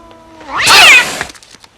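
In the film Pet Sematary, a single drawn-out cat meow, rising then falling, loud and close, with a few soft knocks fading afterward.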